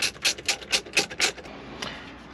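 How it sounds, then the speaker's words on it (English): Screws being tightened on a double-DIN dash kit during a Kenwood head unit install in a Chevy Silverado: about six quick rhythmic rasping bursts close up, then a faint final one, with no talking. "So now we'll go ahead and tighten these down."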